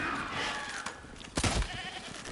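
Goat bleating in The Witcher 3 Wild Hunt, one loud close bleat standing out near the middle of the clip over game ambience.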